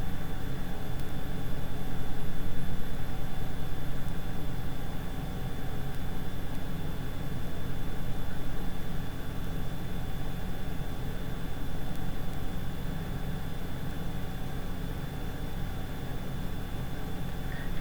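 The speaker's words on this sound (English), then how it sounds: "If you hear any noise in the background, it's my air conditioner" Steady background hum of a running air conditioner, a constant broadband drone with faint tonal lines, continuous and even throughout with no talk.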